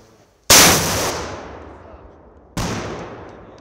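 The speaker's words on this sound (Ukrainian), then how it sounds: "Постріл!" Two sharp, loud gunshots about two seconds apart during military weapons training, each with a long echoing decay rolling away outdoors.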